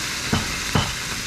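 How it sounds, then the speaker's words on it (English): Food sizzling in a hot pan with soy sauce, a constant crackling hiss with two brief stirring scrapes, close up and without any talking. "Sizzle."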